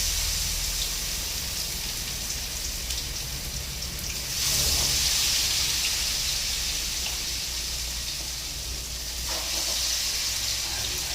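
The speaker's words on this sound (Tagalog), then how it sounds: "Prito ko ang chicken." Steady sizzling and crackling of chicken frying in hot oil, close and continuous, swelling slightly in places.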